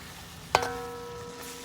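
Oil sizzles softly in a pan as shrimp and sausage fry, and a sharp clink of a utensil against the cookware stands out once near the start.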